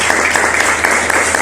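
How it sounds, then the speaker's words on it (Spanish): A church congregation claps together during a Spanish-language worship service, loud close rhythmic applause with a steady pulse of about four claps a second. "Démosle un aplauso al Señor."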